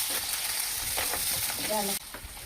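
Onions fry in a pan for a taro-leaf curry. A steady close sizzle is broken by the scraping of stirring, and there is a brief tonal sound near the end.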